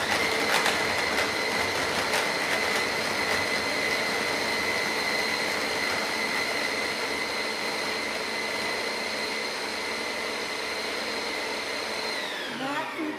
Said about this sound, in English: That food processor's done a better job than any of my equipment that I've used to make that